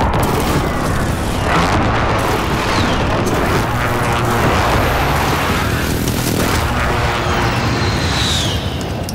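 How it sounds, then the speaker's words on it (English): Precision airstrike explosions rain down in Call of Duty Modern Warfare, a dense, loud, rolling barrage of booms and rumbling blasts that continues without pause, with occasional sharper pops and whooshes layered on top. "Friendly precision airstrike inbound."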